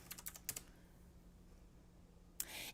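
Quick clicking keystrokes on a computer keyboard during a web search, a short burst of several taps, then a pause before a louder flurry of typing. The sound is close and fairly quiet, with no talking.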